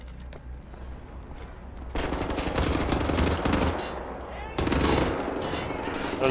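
Gunfire from Wolfenstein The New Order comes in two loud bursts of rapid automatic shots, with quieter game noise in between.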